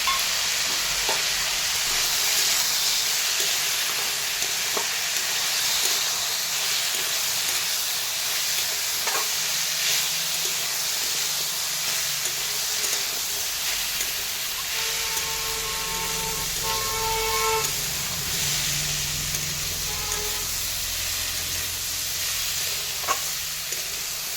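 Continuous loud sizzling as mung dal, cauliflower and carrot fry in a pan, with occasional scraping stirs and a faint tonal hum midway, no one talking.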